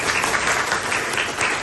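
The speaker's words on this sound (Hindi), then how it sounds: "तो एक बार तो जोरदार ताली बजाएंगे इतना बढ़िया सेशन देने के लिए" Audience applause at a college training and counselling workshop in Rampur, a dense, even patter of many hands clapping steadily and loudly throughout.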